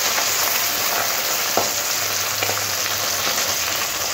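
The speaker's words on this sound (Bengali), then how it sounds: "দেখুন এইরকম লাল করে ভেজে নিতে হবে ও পিঠটাও।" Pabda fish sizzle steadily in hot oil, a loud, continuous crackling fry with faint scraping stirs, close and alone without any voices.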